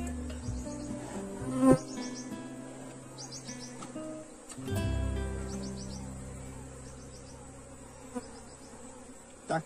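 Honeybees buzz steadily around an open hive during queen rearing from a split colony, a close, continuous drone with a few sharp knocks and thuds from hive handling.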